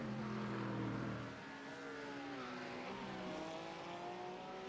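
GT race cars on a track in a racing video game, engines revving and shifting with rising and falling pitch, fairly faint and continuous, one car dropping away as another climbs.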